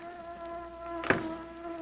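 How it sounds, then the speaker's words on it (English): A thin, steady insect buzz hums quietly on its own, swelling briefly as one flies close by. "Oh, boy, look at all the bees in here."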